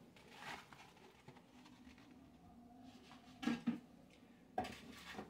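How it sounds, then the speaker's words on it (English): Beef drops into a crock pot with soft, quiet kitchen clatter and a few sharper knocks of a utensil against the pot near the end. "so we're going to go ahead and put the meat in"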